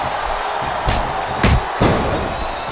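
Crowd noise rolls continuously in a WWE SmackDown vs Raw 2007 wrestling match, broken by three sharp heavy slams that thud above the steady roar of the arena audience.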